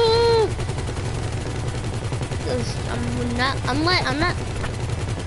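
Rapid automatic gunfire in the video game GTA 5, a dense continuous rattle of shots with whistling tonal game effects on top, while a player speaks over it.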